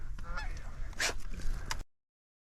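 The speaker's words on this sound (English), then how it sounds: "The goose is coming." A goose honks repeatedly during a duck hunt, giving loud, nasal calls in an irregular series over outdoor background noise.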